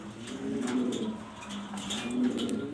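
Fancy pigeons kept in pairs for sale coo softly and continuously nearby, low rolling calls overlapping in a steady murmur with no talking.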